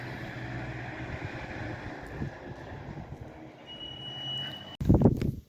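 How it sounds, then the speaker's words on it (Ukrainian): Gusty wind roars and buffets against the microphone in a low rumble, ending with a sudden louder blast. "Так, все, можна йти додому. Вітер зірвався вже."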